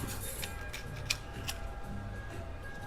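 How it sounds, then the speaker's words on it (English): A small paring knife cuts the membrane out of a bell pepper, giving quiet, crisp snips and clicks at irregular intervals, close and faint, with no talk over them. "You want to cut out all the membrane."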